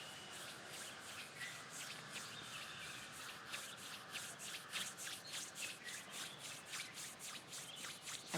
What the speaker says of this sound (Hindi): स्लोली पाम्स को रब करिए।